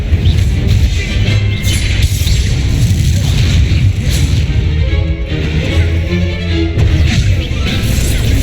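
Incendio fire spell cast in the Hogwarts Legacy video game, a loud, dense roaring burst of flame and booming impacts layered over continuous game combat noise for several seconds.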